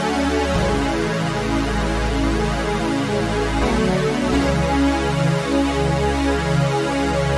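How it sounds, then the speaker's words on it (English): Juno synthesizer plays sustained chords lifted from a sample, a warm, steady progression of held tones with a deep bass layer, changing every second or so, loud and alone. "I went ahead and grabbed this Juno synth and I just interpolated the chords from the sample into the synth"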